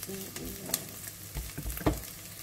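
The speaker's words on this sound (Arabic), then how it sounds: "نرجعوا للبصل نتاعنا نلقاوه بدا يحمر" Onions frying and browning in a pan for lasagne bolognaise, a close, steady sizzle with occasional stirring scrapes and a brief clink, no voices.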